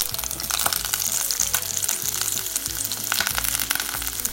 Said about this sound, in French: On fait revenir un peu de façon à en dégager un peu les arômes.